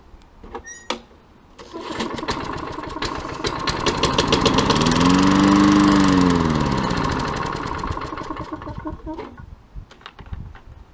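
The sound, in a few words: lawn mower engine starting and running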